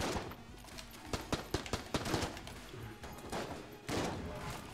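Rapid bursts of enemy gunfire in Enter the Gungeon, a top-down shooter, crackle in quick uneven volleys over a busy game soundscape, with sharp shot transients clustered through the middle and a louder swell near the end.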